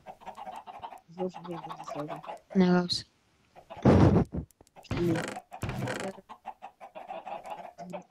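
Chickens in the game Minecraft, giving short clucking calls, with someone talking in between and over them.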